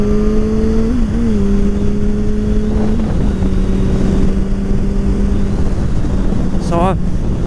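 A motorcycle of under 100 hp accelerates to overtake, its engine tone rising and shifting under loud, steady wind roar, and a brief sharp revving sweep comes near the end.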